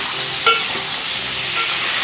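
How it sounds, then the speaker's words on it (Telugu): Eggplants frying in a pan give a steady, fairly loud hiss of sizzling oil with one brief scrape of a spoon early on, close up and without any talking. "ఈ వంకాయలు కూడా పచ్చివాసన పోయే వరకు వేయించుకోవాలి."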